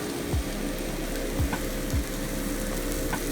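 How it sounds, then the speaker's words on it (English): Peppers and onion sauté in a pan for Indian-style chicken, giving a steady, close sizzle with a few soft scrapes from stirring. "I'm going to use my vegetable, the peppers and onion on the side, saute it and then mix it together"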